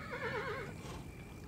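A horse whinnies with a wavering, drawn-out neigh in the video game Kingdom New Lands, fairly faint and heard alone over low background sound.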